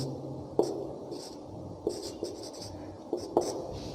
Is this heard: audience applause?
no